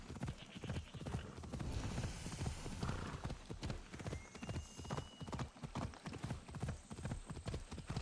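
Horse hooves clip-clop at a steady gallop in the video game Assassin's Creed Odyssey, loud and close, with a whinny breaking in and a voice talking briefly over it.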